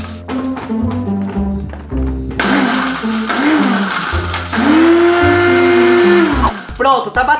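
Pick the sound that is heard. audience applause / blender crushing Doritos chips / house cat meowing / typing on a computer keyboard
blender crushing Doritos chips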